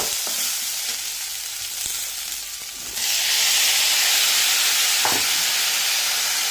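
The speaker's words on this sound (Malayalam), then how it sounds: "വെളുത്തുള്ളിയും ഇട്ട് കൊടുത്ത് നന്നായി വഴുത്തുകയാണ്" Garlic sautés in a hot pan for chicken curry, giving a close, steady sizzle that swells louder and hissier about halfway through, with a faint stir or two and no speech.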